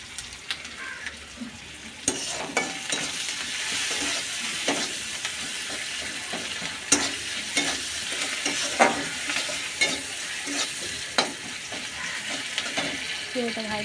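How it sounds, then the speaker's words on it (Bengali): Onions with salt fry in a pan while being stirred, a steady sizzle with scraping stirs and clinks, as a voice talks faintly in the background. "পেঁয়াজটা ভাজার জন্য লবণ দিয়ে দেবো।"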